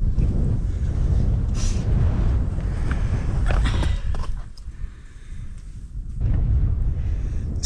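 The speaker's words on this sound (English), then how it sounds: "quite a cold breeze coming in." Cold wind gusting over the open Cheviot hills, a loud buffeting rush that dips quieter midway before surging back.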